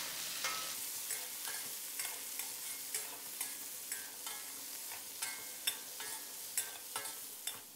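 Cauliflower and garlic stir-fried in a pan, with pork belly in the dish: steady scraping spatula strokes and repeated clacks against the pan over a constant sizzle, close and fairly loud, with no voices.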